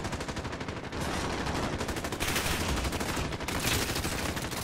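Rapid automatic gunfire in Call of Duty: Warzone Plunder mode, loud sustained bursts of shots with brief pauses between them, dense and close.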